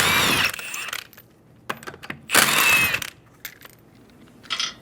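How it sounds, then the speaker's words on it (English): Metallic clatter, clinks and ratcheting bursts come close by as a 21mm socket takes the lug nuts off a rear wheel of a 2011-2014 Hyundai Sonata, with small metal taps in between. "Using a 21mm socket, remove the 5 lug nuts."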